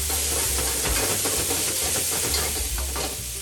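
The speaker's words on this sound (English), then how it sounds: "So we will add about half of the bok choy. It's gonna splatter." Bok choy dropped into a hot pan for ginger beef sizzles and splatters with a steady hiss, close and fairly loud, and low clatter as it is stirred.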